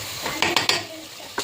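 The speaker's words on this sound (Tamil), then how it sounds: "தக்காளி நல்லா வதக்கி விடுங்க" Tomatoes are stirred in a pan with onions, giving a few quick metallic clinks and scrapes of a spoon against the pan over a faint sizzle, with no talking.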